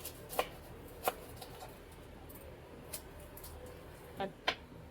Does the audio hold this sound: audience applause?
no